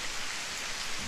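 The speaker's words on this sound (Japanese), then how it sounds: "降ってきちゃったわね、雨。" Steady rain falls as a sound effect in a BanG Dream! Girls Band Party story scene, a dense even hiss of drops with no voices.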